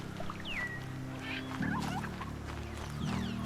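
Turkeys gobble in the Horizon Zero Dawn video game, rough forest setting, with a couple of warbling calls rising over a steady low ambient hum.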